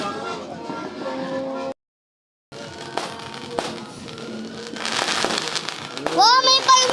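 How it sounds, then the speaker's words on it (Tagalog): New Year fireworks in Quezon City crackle and pop repeatedly, with sharp bangs growing denser toward the end, while people talk and exclaim over them. "Wow, may fireworks pa!"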